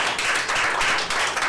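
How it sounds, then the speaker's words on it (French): Audience applause at a French reading competition, a brief burst of scattered hand claps at moderate volume. "Nous allons applaudir."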